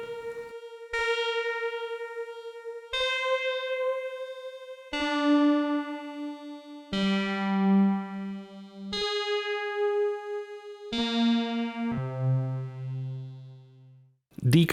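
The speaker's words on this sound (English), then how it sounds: "Chorus and a phaser." A sustained modular synth with chorus and phaser effects plays a slow sequence of held notes, each tone shimmering and sweeping with a wavering, swirling modulation, alone with no talk.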